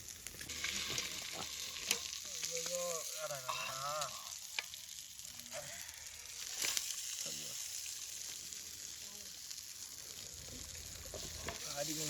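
Seer fish (vanjaram) sizzles in ghee on a grill in the forest, a steady close frying hiss with occasional crackles, while people talk over it.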